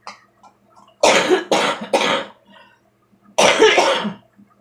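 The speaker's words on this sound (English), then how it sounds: "Here comes the cough." Harsh coughing in two bursts, first a quick series of three rough coughs, then after a pause a longer hacking cough, close and loud.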